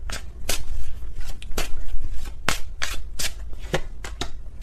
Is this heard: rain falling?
no